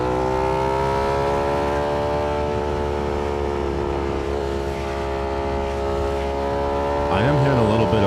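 A motorcycle engine likened to a Ducati drones steadily at a high, sustained pitch with a strong harmonic tone, loud and close with wind noise beneath, briefly shifting pitch near the end.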